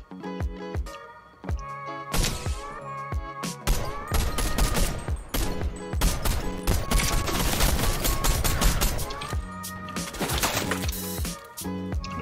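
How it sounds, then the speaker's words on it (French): Heavy automatic gunfire aimed at the player in Fortnite: dense, continuous rattling volleys of shots that build into a loud sustained barrage before thinning into scattered pops, with no talking. "Il y a un autre qui tire dessus en plus."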